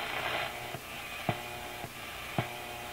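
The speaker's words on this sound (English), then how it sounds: "That sound is my office computer on in sleep mode." A computer in sleep mode hums faintly and steadily, with soft ticks repeating about every half second.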